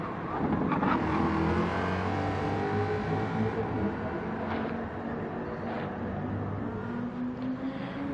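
Touring race car engine at Laguna Seca during an ARC Touring Car Cup lap, a steady loud drone holding high revs throughout with slight pitch shifts on corner exits, no talk.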